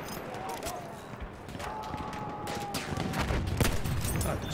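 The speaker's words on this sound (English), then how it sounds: "Machine gun, one of theirs." Machine gun fire from an enemy position in Battlefield 1, a busy battlefield din of bursts and scattered shots over several seconds, mixed with game noise and a voice talking over it.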